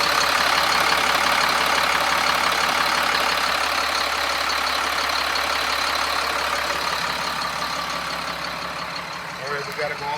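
A 2007 Sterling L7500 garbage truck idles steadily at close range, a dense broadband engine rumble that holds even and then eases slightly near the end.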